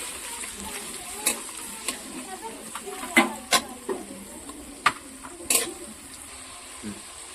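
Chopped carrots lightly frying in a pan, a soft steady sizzle broken by scattered clicks and scrapes of stirring, quiet and close, with no talking.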